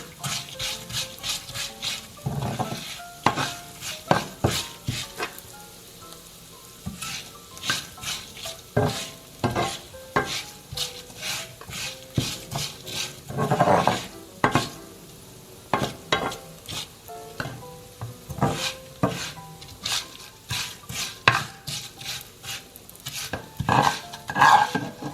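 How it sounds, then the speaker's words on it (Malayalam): Poha (flattened rice) frying in a pan, with repeated scraping and stirring strokes of a spatula and soft sizzle, close and steady without talk. "ഇതുപോലെ നമ്മൾ എടുത്തു വെച്ചിരിക്കുന്ന 1 കപ്പ് അവലും നമുക്ക് വറുത്തെടുക്കാം."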